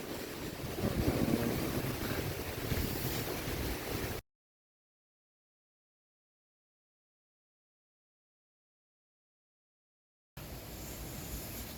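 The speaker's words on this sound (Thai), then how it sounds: "เสียงลมได้ยินไหมครับ" Strong wind roars across a mountaintop at Khao Yai Thiang, buffeting the microphone in a dense, loud rush that cuts to total silence midway and then returns.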